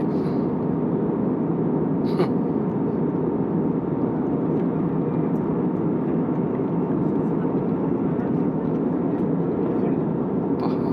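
Airplane in flight, a steady loud cabin roar of engines and airflow lasting throughout without pause, with a voice speaking over it.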